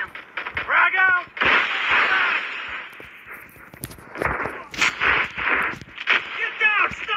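Sniper and other gunfire in the mobile shooter Call of Duty Mobile, heard as sharp cracks and booms scattered through dense game noise and music, with an excited voice shouting over the action.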